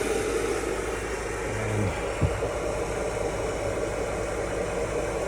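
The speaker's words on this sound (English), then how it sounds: "Let's run the motor. Got 2 rotors running." A homemade pulse motor spins two rotors with a steady, even hum. A single sharp click sounds partway through.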